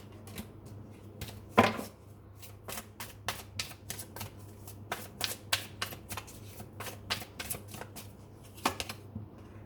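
Tarot cards shuffled and drawn close by, a soft, quiet string of flicks and slaps in an irregular rhythm with one sharper riffle early on.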